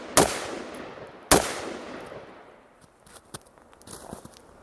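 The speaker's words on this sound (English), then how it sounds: "Got some nice shooting going on" Two sharp, loud AR-15 rifle shots crack at an outdoor shooting range, about a second apart, each trailing a long decaying echo, followed by faint scattered clicks and thumps.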